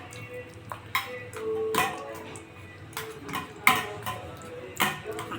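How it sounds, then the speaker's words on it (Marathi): A spoon mashes soaked dates and tamarind in a bowl, giving scattered metallic clinks and soft taps at an uneven pace over a quiet kitchen background. "त्याला आपण चमच्याने छान असं मॅश करून घेऊ"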